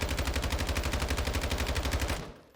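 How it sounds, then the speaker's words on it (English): Lachmann 556 rifle fired on the firing range in Modern Warfare II, a rapid automatic burst of about two dozen evenly spaced loud shots lasting two seconds, then the sound cuts off abruptly. "whenever I go ahead and fire it"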